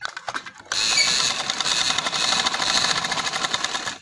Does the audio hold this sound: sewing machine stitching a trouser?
yes